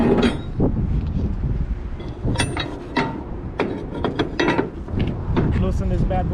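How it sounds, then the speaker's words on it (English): Metal ratchet straps being worked loose on an old, somewhat rusty flatbed trailer, giving repeated clanking and ratcheting mechanical clicks in uneven bursts, close and fairly loud over steady outdoor background noise. "So what I'm trying to do now is get these straps loose so I can throw them over to the other side and put them on there."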